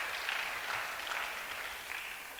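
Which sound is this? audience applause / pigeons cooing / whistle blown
audience applause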